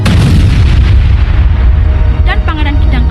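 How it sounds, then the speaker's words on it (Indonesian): A loud, deep explosion sound effect booms and rumbles through the whole stretch, a heavy sustained low roar, with a brief warbling tone rising near the end. "timbullah ledakan"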